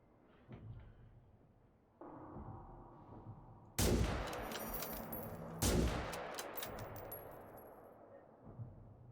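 A powerful rifle fired in a video game, a few sharp loud reports spaced seconds apart, each with a ringing tail, over quieter ambient game noise.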